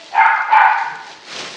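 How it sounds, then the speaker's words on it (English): A dog barks twice in quick succession at moderate distance, a short bout of sharp barks heard alone during the unboxing of a Sports Afield gun safe, followed by a softer trailing sound. "hear that crazy dog?"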